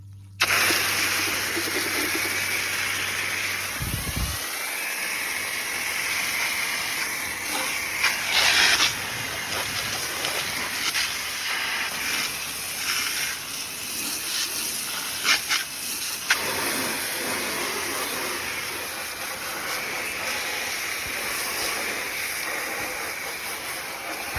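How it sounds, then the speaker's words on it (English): A water hose sprays and rinses an outdoor HVAC coil, a loud steady hissing splash that swells and changes as the spray moves across the fins, after a brief low hum at the start, with no talking. "So as far as rinsing it off, pretty straightforward."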